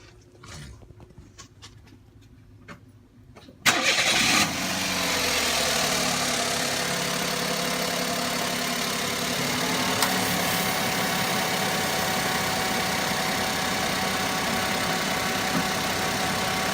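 Suzuki Wagon R engine cranks over and catches, then settles into a steady, loud idle that runs on alone, with a slight knock in its rhythm, while the A/C system is being worked on.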